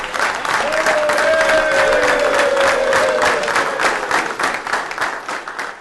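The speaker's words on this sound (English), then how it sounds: "the team just stands up and starts clapping" A team rises and claps together, producing a steady wash of applause close by that lasts several seconds, with a faint whistle-like tone drifting through before it tapers off.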